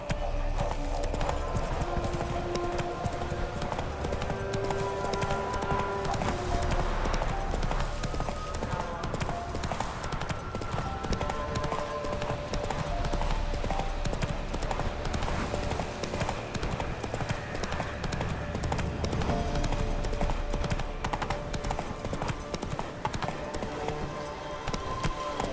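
Horse Roach galloping in The Witcher 3, a continuous rhythmic clip-clop of hooves over game music and ambience, steady and moderately close throughout.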